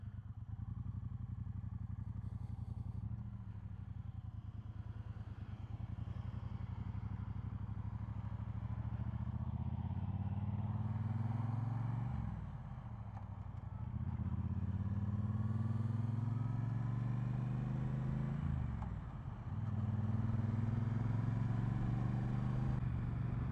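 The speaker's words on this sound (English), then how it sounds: "I'm just riding this awesome little bike" A Triumph Bonneville Bobber motorcycle ridden on a test ride, its engine droning steadily up close, with two clear dips and rising pitch sweeps as it shifts and accelerates again, no talking.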